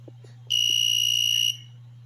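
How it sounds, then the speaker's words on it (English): An Arduino piezo buzzer gives one sharp, steady high-pitched beep lasting about a second over a low constant hum, with faint clicks before it. "So I have turned on this buzzer and press this close."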